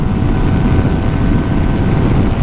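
A 2022 Yamaha T-MAX scooter engine drones steadily while riding, heavy wind rush blending into a loud, continuous low roar.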